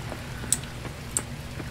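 Rain falls in the Coral Island farming game as a steady, soft hiss, with a couple of faint, bright chirps rising above it and no one talking.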